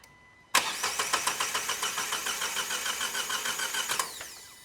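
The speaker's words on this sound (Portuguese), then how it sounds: "O motor tenta partir, mas ele não consegue partir." A flex-fuel car engine cranks for several seconds without catching. The starter's steady rhythmic churning is loud and close, then cuts off.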